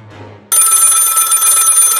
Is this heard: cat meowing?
no